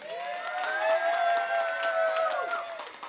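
Graduates and guests at a college commencement ceremony applaud faculty and staff, steady clapping from a large crowd with cheering and whistles rising above it, continuous for about three seconds.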